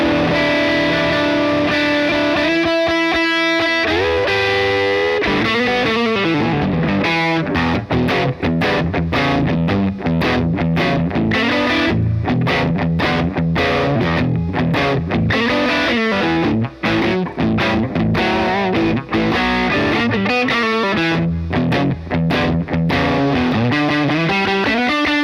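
A distorted electric guitar plays through a Luscious Voxy amplifier, loud chords and riffs with bright, biting high end ringing continuously for the full stretch.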